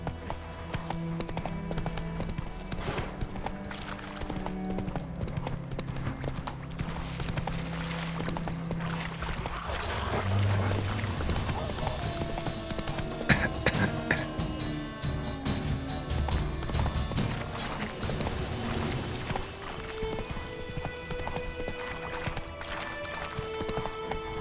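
Roach the horse gallops in The Witcher video game, with a continuous rapid clip-clop of hooves under game ambience and a brief clatter midway, running steadily for about twenty-four seconds.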